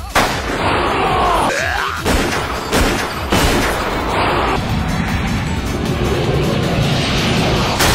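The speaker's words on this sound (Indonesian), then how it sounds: "Dengan cara yang sama, yaitu menembak titik kelemahan Sayonaki" Gunfire from the anime Hidan no Aria (Aria the Scarlet Ammo), with several sharp shots and impacts in a loud, dense action mix over a steady rumbling background.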